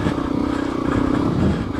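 A motorcycle revs loudly and steadily during a wheelie on trails near Moab, with engine roar and some clatter close by.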